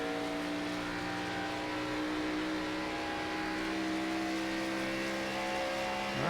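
A NASCAR Xfinity car in the iRacing simulator, running at Homestead, holds a steady partial-throttle engine drone with clear sustained harmonic tones, loud and constant throughout without talk.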